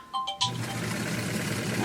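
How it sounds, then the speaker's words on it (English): A phone ringing during costume sewing work: a few short bright electronic tones at the start, then a steady background hum with no further rings. "There goes my phone."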